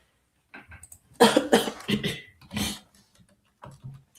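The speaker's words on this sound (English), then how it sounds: "Excuse me for coughing in your ear like that." A few harsh, close-up coughs in short bursts, separated by quiet gaps, with some faint mouth noises between them.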